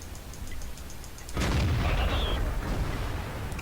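A broad, loud boom from the STB-1 tank's cannon in a tank combat video game breaks in sharply after a quiet stretch and is followed by a sustained rumbling tail, with no talk.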